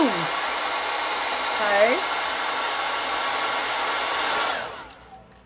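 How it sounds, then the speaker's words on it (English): A blow dryer runs steadily and loud, blowing on a hair curl, with a brief spoken word at the start, before the airflow tapers off near the end. "The blow dryer holds the curl."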